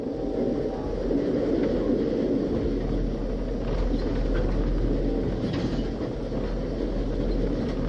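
An Amtrak passenger train rolls past, a steady, loud low rumble with faint rail clatter holding for the whole stretch and no voices.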